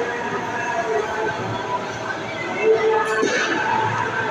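A KRL commuter train sits at Manggarai station in Jakarta, heard as a steady low rail rumble under a wash of platform ambience. Voices and scattered noise rise and fall through it, with a short surge near the end.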